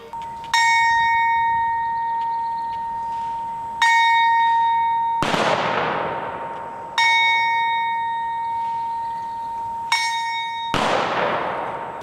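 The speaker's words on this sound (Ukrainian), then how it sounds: "Івано-Франківську дзвін пам'яті лунає наприкінці кожного місяця" A large memorial bell in Ivano-Frankivsk tolls slowly, each deep strike ringing out and fading for several seconds before the next, loud and resonant with no voices.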